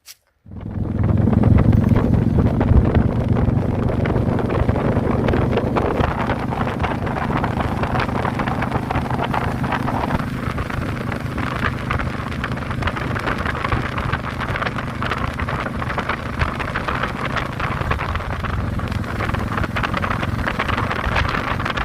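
A motorcycle gets under way and then rides steadily, with heavy wind buffeting the microphone over the engine's low drone throughout and no speech.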